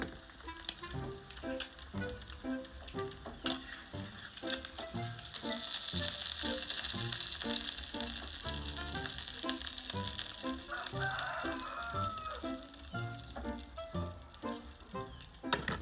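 Burger patties sizzle and crackle in a hot pan, a steady busy frying hiss with bursts of popping and occasional scraping from a spatula, close and fairly quiet.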